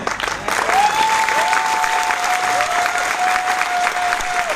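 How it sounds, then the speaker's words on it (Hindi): An audience claps loudly at a business event in a large hall, continuous dense applause with a tonal electronic sweep repeating over it, close and full throughout. "अच्छा, ये दिल्ली वाली ताली है।"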